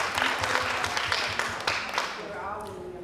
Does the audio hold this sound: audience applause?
yes